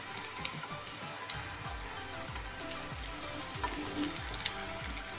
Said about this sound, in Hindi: हमारी जो टिक्की है वो एकदम से करारी और क्रिस्पी इस तरफ से अच्छे से फ्राई हो गई